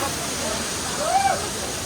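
Paal Aruvi waterfall in Kerala roars as a loud, steady broadband rush of falling water, close by, with a brief voice rising faintly over it.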